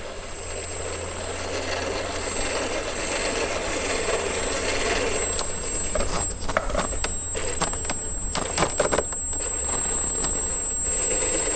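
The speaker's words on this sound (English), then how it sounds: "That's a 3500 kV motor with that much low speed control." An electric 3500 kV motor in a heavy RC Jeep Cherokee XJ crawler runs with a steady high whine over a low hum, with scattered crunching and clicking bursts as it moves partway through.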